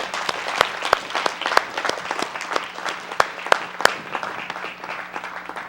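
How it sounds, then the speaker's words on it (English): A church congregation claps in a livestreamed service, a loose crowd of hands patters with a few sharp, loud individual claps standing out over the steady wash. "Yahuwah a hand clap."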